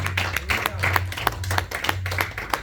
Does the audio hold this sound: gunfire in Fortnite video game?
no